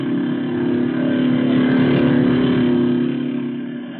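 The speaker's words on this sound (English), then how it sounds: "Outboard motorboat races." Outboard motorboat racing engines give a steady, loud, buzzing drone that swells slightly and then eases off, heard through a narrow, old-radio-style band with no voices over it.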